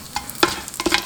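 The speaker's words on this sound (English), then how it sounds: "Yeah, sauteing it well." Whole spices like cinnamon, anise seed and cloves sautéing in a pressure cooker for chicken biryani, with a few quick close scrapes and clinks of a spoon over a light sizzle.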